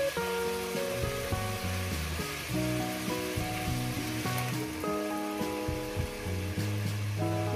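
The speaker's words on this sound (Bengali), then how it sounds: "2-3 মিনিট ধরে ভেজে নেব এটা।" Jackfruit curry with mutton fat and minced meat frying in a pan: a steady, close sizzle that runs unbroken throughout with no talk, alongside prominent steady tones.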